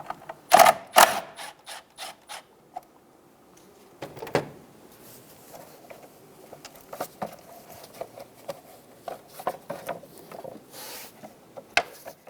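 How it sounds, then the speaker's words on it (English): A ratchet with a 10mm socket loosens a nut underneath a 2000-2007 Ford Focus, giving quick clicking bursts and scattered mechanical taps, close and fairly quiet, with no talking. "Using a 10mm socket, loosen the top nut"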